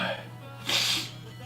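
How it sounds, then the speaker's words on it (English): A single short sneeze bursts out mid-clip, close and fairly loud, over a steady low electrical hum. "why did I have to sneeze once again?"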